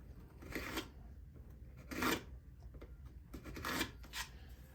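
A card scrapes lightly across a surface in three short, soft strokes spaced about a second and a half apart, faint against a quiet background, while working on a yard lead.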